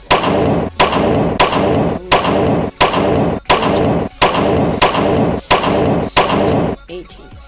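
Roughly ten loud gunshots from a modded Minecraft DayZ game, fired one after another at a steady rhythm, each a sharp close blast with a short ringing tail, then a brief quieter stretch at the end.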